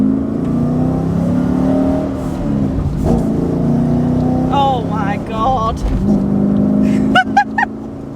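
A naturally aspirated V8 car engine with a full exhaust system idles, then revs up several times with rising whines and crackling pops from the exhaust, while a voice exclaims once.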